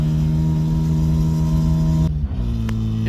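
A Ford Ranger fitted with a swapped Mazda RX7 rotary engine with a slight misfire runs close by, a steady buzzing drone that drops and shifts pitch abruptly partway through.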